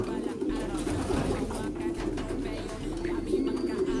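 A male racing pigeon coos steadily and close, its low throaty calls running throughout among other pigeons, with faint background noise.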